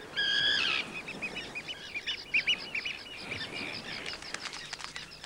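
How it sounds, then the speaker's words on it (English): Arctic terns in a breeding colony, a loud harsh call up close followed by a busy run of shorter chirps and calls at varying distances, ending in rapid clicking notes. "thousands of Arctic terns come here to raise their families, usually in the colonies where they themselves hatched out"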